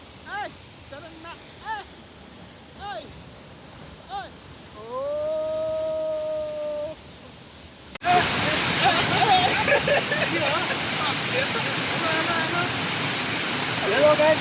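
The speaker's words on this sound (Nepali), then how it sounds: "मौसम खुलेपछि यस्तो देखिरहेको छ है त झरना" Sundrawati waterfall in Nepal roaring nearby, a steady loud broadband rush that starts abruptly partway through, preceded by whistle-like tones and a sustained hum.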